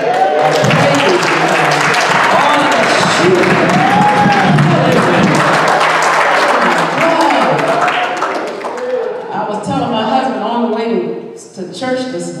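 Church congregation applauding and clapping in praise, dense and loud for about eight seconds before thinning out as a voice begins speaking over the last few seconds.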